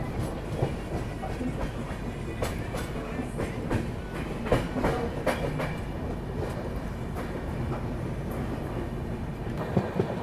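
Ahmedabad Gorakhpur Express rolling through Kashi station and overtaking a waiting train, with steady loud rumble and repeated clickety-clack of wheels over rail joints throughout, no voices.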